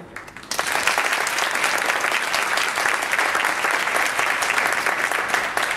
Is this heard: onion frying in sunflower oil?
no